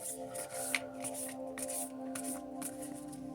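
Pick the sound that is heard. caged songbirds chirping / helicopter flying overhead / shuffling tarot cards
shuffling tarot cards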